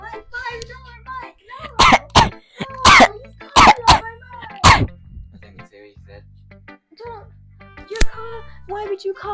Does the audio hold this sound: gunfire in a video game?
no